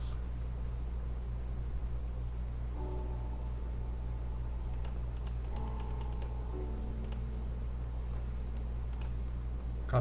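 Soft clicking of a computer keyboard, scattered keystrokes typed in short bursts over a constant low hum, fairly quiet and without speech.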